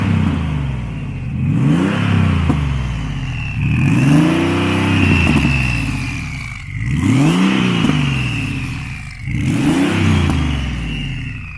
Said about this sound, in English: if you can hear those turbos now, those are the twin turbos